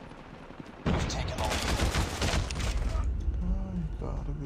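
Rapid bursts of automatic gunfire from a Call of Duty video game, loud and continuous over several seconds, with a player's voice speaking over the shooting.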